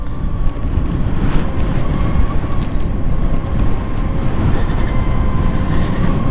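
Riding an electric motorcycle at speed: a steady, loud rush of wind and road noise fills the whole stretch, with a faint motor whine and no engine pulses.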